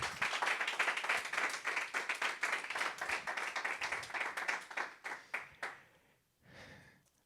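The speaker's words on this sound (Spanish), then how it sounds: "dale un aplauso fuerte al Señor." A church congregation claps loudly and rhythmically in unison, the beat quickening and scattering before tapering to a fade, with a brief faint burst near the end.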